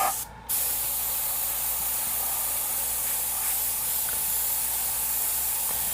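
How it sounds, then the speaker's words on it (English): Spray gun applying custom paint to a mini hood in lowrider style, a close continuous airy hiss that briefly dips near the start then holds steady throughout. "I'm not spraying a ton inside there"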